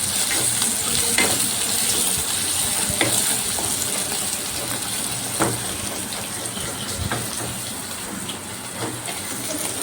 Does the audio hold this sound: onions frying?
yes